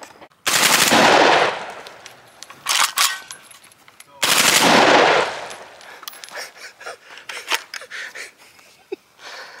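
A $200 suppressed full-auto shotgun firing outdoors in two long bursts of rapid muffled blasts, followed by a few scattered single shots, with people talking and reacting between volleys.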